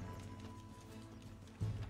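Horse hooves clip-clopping in a quiet, steady gait while riding through the town of Valentine in a video game, with a slightly heavier thud near the end.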